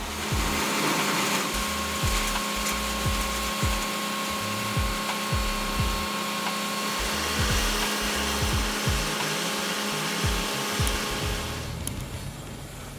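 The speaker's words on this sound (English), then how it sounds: "the Moorebark 1300 tub grinder delivers outstanding productivity" A Moorebark 1300 tub grinder grinds wood with a powerful machine roar, punctuated by repeated low thuds and knocks as material is broken up, ending with a sharp clunk near the end.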